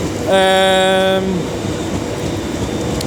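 An Avanti West Coast train pulls into platform 6 at Milton Keynes Central on the West Coast Main Line, opening with a loud, steady two-tone horn blast of about a second, then a low rumble of rolling stock close by.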